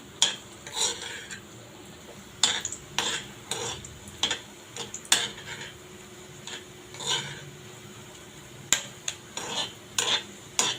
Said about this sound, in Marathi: हे ब्रेड मी तुपातून फ्राय करून घेणार आहे थोडं ब्राऊन होईपर्यंत फ्राय करून घेऊया